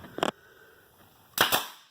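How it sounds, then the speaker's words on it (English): Two sharp bursts from a $28 Harbor Freight stapler firing staples into drywall corner bead, each a quick double snap, about a second apart, close and loud with quiet between. "Harbor Freight stapler. Does a beautiful job."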